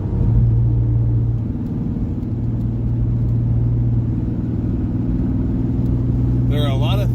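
A 1999 Chevrolet Camaro's engine rumbles at a steady low drone while shifting gears, the pitch dipping briefly at the shift, heard from inside the car with a voice briefly audible at the end.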